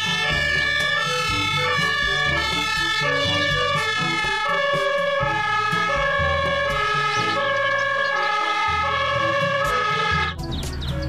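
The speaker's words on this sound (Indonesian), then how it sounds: "Widih, yang ini ada mobil pemadam kebakaran." A toy fire truck siren plays loud and close, an electronic wailing tone pattern cycling repeatedly before cutting off near the end.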